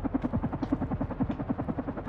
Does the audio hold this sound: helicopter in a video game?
yes